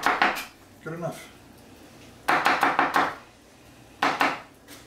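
A knife slices an apple down the sides around the core on a cutting board, with quick runs of crisp chopping knocks in short bursts and a brief spoken remark between them.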